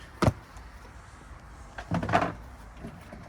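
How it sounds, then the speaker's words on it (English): The door of an Eco Tourer 510 touring caravan is shut. A sharp knock is followed a moment later by a fuller clunk and rattle as it closes, heard up close against a quiet background. "Outside, we just shut the door."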